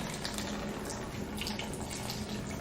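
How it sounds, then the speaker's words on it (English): Water shooting out of holes in the side of a water-filled column, a steady, close broadband rush and spatter like a running tap, with faint splashy flickers and no voices. "Now as the water shoots out, the water in the column is going to drop."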